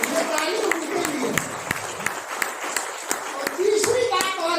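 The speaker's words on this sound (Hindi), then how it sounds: "ये ताली उनके लिए।" An audience at a packed political gathering applauds, scattered clapping running steadily under someone speaking loudly over it.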